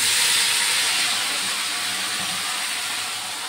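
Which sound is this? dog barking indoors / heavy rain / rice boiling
rice boiling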